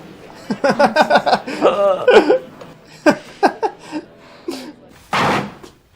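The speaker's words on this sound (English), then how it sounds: "Oh, for God's sake, this door." A door slams shut with a loud, sharp bang near the end, following a stretch of lively talk and laughter in a sitcom scene.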